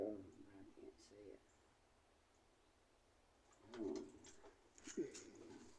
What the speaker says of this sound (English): You can still hear them chirping.